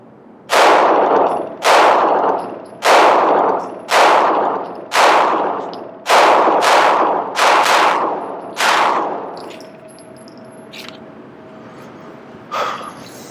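Nine loud, sharp Glock 19 pistol shots crack out at a steady, deliberate pace of roughly one per second, each with a short ringing decay. Quieter handling noise follows.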